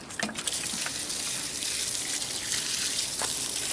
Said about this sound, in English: And water these Boston ferns my wife has growing here.